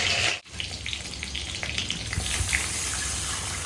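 Pointed gourd (potol) sizzles in hot oil with a loud, rushing hiss and spatter, broken by a brief drop near the start, then a dense bubbling roar that holds steady to the end.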